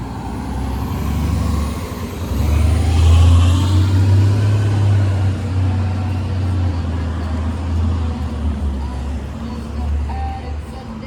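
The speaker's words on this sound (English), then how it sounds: "And here comes a 60-foot New Flyer bus." A 60-foot New Flyer articulated bus on 9th Avenue rolls past up close, its deep engine drone swelling loud then easing away, over general street traffic noise with someone talking briefly.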